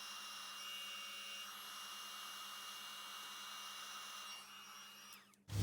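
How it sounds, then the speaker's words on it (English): A heat tool setting Stampin' Up embossing powder, a steady faint fan-driven whir with a thin whine that runs unbroken and then cuts off with a brief clatter, no voices. "I'm going to bring the heat tool in. We're just going to heat set that."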